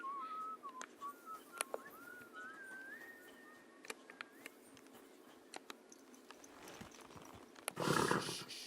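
A horse in Kingdom Come Deliverance 2 gives a wavering whinny early on, then scattered hoof clops and a louder rustling burst near the end, all fairly faint.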